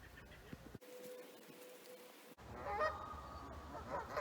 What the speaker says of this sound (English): Instead of turtles sunning on a downed tree, we have Canada geese.